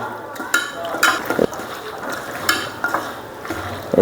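Small native tengra fish mixed with oil by hand in a bowl, a few short wet squishes and clinks against the dish, close and fairly loud, with no speech.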